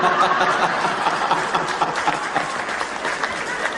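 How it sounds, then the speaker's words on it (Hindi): An audience at a Hindi comic poetry show applauds steadily, a dense wash of clapping with light laughter mixed in throughout. "ताली बजाओ"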